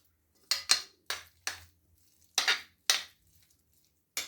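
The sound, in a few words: mixing egg mayo sandwich mixture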